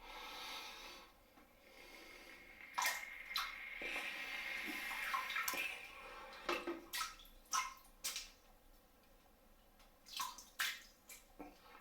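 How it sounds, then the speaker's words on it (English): Water runs from a tap onto a shaving brush knot, a steady close trickle that gives way to irregular splashes and drips, with no talking. "There we go, got some water in the knot."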